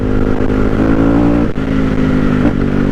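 A 450 Kawasaki KX450F dirt bike with a CRD exhaust line revving hard and steady, a close, loud engine roar with a brief dip in the middle before climbing again.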